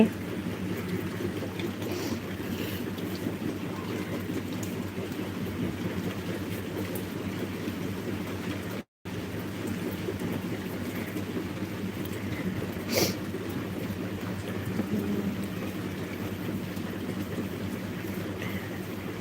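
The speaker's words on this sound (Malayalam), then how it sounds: "ഇവിടെ ഇന്ന് മഴ ഉണ്ടായിരുന്നില്ല മാത്രം ഇപ്പോൾ പെയ്യാൻ തുടങ്ങി" Steady broadband hiss of rain just starting to fall in Kasaragod, Kerala, continuous and even throughout, with a brief dropout midway and no voices.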